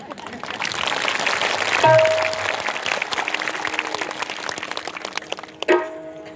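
Audience applause at a Marathi kirtan, a dense burst of clapping that swells, holds and fades over several seconds.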